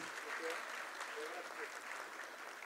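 Steady applause from an audience at a school's annual showcase, a dense wash of clapping that holds evenly for the whole stretch with no voices standing out.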